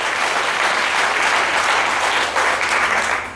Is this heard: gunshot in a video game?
no